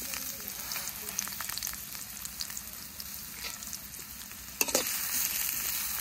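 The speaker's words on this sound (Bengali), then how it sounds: "সবকিছু ভালোভাবে ভেজে নিই।" Onions, green chillies and whole spices fry in oil in a wok, giving a low, continuous crackling sizzle with scattered pops and a sharper burst of stirring near the end.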